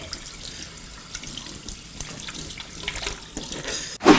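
Dishes are washed under running tap water in a home kitchen, a steady splashing trickle with faint clinks, ending in a short louder burst.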